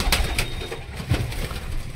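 Pigeons coo softly in low, rounded calls, with a brief flutter of wings, as the birds are let out from their loft outdoors.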